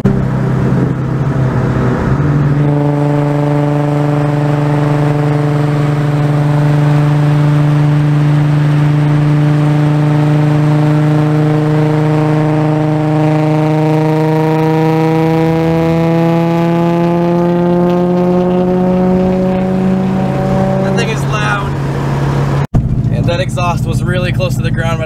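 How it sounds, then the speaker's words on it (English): A car engine drones steadily at speed, its pitch holding then slowly rising, loud and close, ending with a brief cut. "We're going on the highway now."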